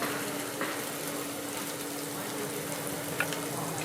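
Potatoes sizzle with spices in a pan, a steady, dense hiss running evenly throughout with only faint stirring touches.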